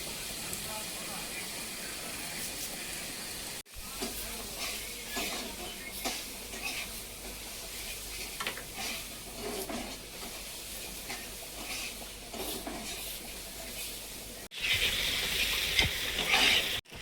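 Spices with chilli powder fry and are stirred in a pan for mutton curry, making a steady close sizzle with scraping strokes that grow louder near the end, while someone talks over it.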